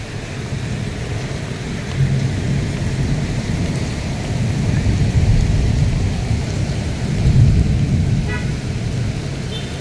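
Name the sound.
heavy rain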